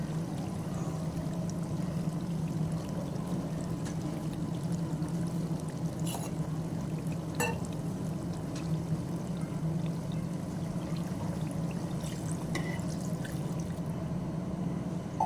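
Water poured into a pot of braised country chicken as it cooks, a steady continuous pouring and bubbling with a few clinks, close and even throughout.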